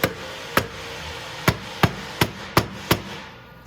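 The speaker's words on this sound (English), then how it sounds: "I'm just gonna try it with my hammer handle" Seven sharp knocks ring out at an uneven pace, a hammer handle tapping a metal part on a 250cc Venom x22R motorcycle during stator replacement, loud and close with brief decays.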